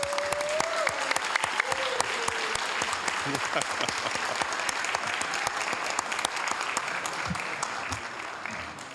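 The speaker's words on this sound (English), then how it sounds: "let's give them a big round of applause" A room full of people at a city council meeting claps steadily for several seconds, a dense continuous patter with a voice briefly audible underneath.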